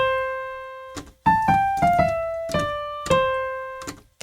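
Piano playing the next phrase of a melody, a run of separate clear notes in an uneven rhythm, with the pitch stepping gradually downward, close and alone with no talking.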